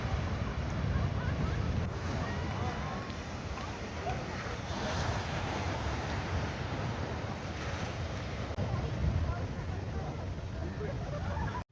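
Sea waves crash and roll onto the rocks at Rock Beach, Pondicherry, at sunrise, a loud, steady roar of surf mixed with wind buffeting the microphone, with no break throughout.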